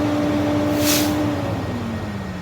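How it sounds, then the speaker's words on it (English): Air brake governor on a commercial truck cutting off at 140 PSI during an in-cab inspection: a brief hiss of released air mid-clip over a steady idling engine drone, close by. "that sound you heard was my governor cutting off"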